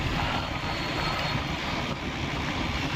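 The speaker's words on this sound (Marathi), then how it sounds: "ट्रॅक्टर आहे समोरून आलेला." A tractor carrying a rotavator drones loudly and steadily nearby on a road, a dense, rough mechanical roar with no talking.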